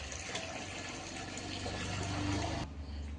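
Water pours and fills a pot set on a wood-fired stove in a home kitchen. It makes a steady gushing rush that stops abruptly near the end.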